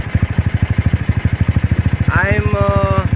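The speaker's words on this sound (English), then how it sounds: "as my engine running, you see my motorbike charging" A motorbike engine fitted with an HHO hydrogen tube cell idles close by in a steady, rapid thumping pulse, and a sustained tonal whine rises in over its last second.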